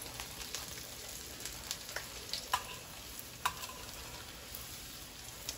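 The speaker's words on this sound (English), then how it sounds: "I'm going to start by frying my tortillas for the enchiladas" Tortillas frying in oil in a skillet for enchiladas, a soft steady sizzle with scattered pops and crackles, quiet and close, with no talking.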